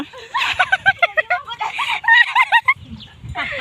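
Close, rapid clucking from chickens comes in quick bursts, with brief gaps and a short pause before more clucks.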